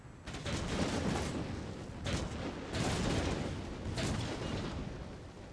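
Musket volleys and artillery fire in an Empire: Total War battle against the Inuit, rolling, rumbling crackles of massed fire coming in several surges, at a moderate distance and fairly soft.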